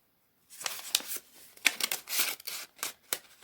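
Paper cash bills and paper envelopes handled and shuffled at close range, with crisp rustling, sliding and flicking bursts after a brief silence, irregular and fairly loud, no talking.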